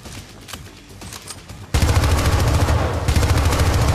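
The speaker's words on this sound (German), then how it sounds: "ist das hier eine Prügelei, beziehungsweise eine Schießerei" A gunfight in the video game Syndicate. After a quieter stretch of scattered shots, a loud, dense burst of rapid automatic fire suddenly bursts in and keeps going without a break. No voices are heard.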